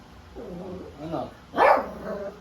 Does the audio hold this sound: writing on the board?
no